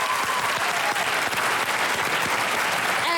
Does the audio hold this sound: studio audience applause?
yes